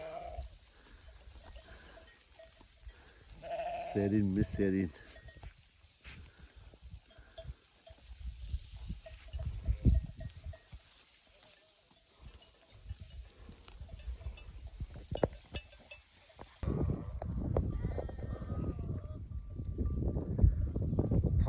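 A flock of sheep grazes on a cool hillside, with one loud nearby bleat early on and fainter bleats and bells around it. Footsteps and outdoor bustle run throughout, and someone speaks briefly.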